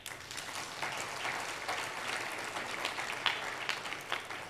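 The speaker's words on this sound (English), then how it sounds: "Can we clap for that?" An audience at an annual members' meeting claps in steady applause, fairly faint and even, with no talk over it.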